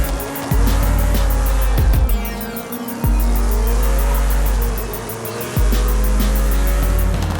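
A 2013 McLaren P1 at close range: its engine roars and its tires squeal hard as it loses traction, with the engine noise dropping and surging in repeated pulses across a few seconds.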